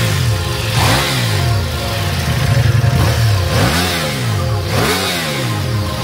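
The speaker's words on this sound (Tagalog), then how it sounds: "Ito yung before. So mamaya pakita ko sa inyo ano gawin nila dito sa yung exhaust." Ducati Multistrada V4 Rally with its stock exhaust before modification, revved repeatedly in a detailing shop: four or five loud, close throttle blips rising and falling over a steady idle.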